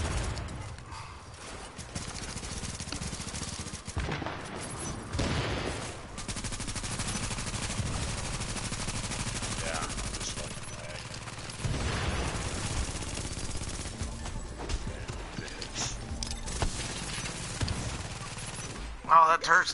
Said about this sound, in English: that turret's tearing me the freak up